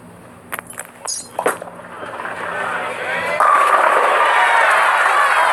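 At a professional bowling championship final, a ball strikes the pins and clears the rack, a brief clatter followed by a swelling roar of crowd cheering and applause that stays loud to the end.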